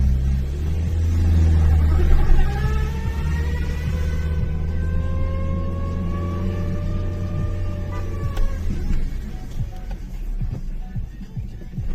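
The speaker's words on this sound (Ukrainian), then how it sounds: "Як ви чуєте, мотор навіть працює, як не странно." A car engine idles steadily after a wash, a close, even hum and rumble with a slight rise and fall in pitch partway through.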